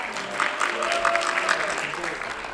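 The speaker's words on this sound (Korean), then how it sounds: "오늘 박수소리가 좀 작은데요?" Party guests applaud as two hosts open a 15th-anniversary Pilates celebration, steady moderate clapping across the room with a faint tone underneath.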